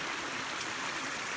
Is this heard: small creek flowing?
yes